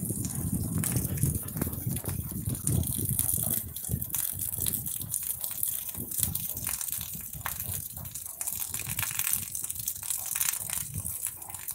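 Heavy rain pours down as a cyclone begins, a dense, continuous roaring wash of water that stays loud and steady throughout, with no talk over it.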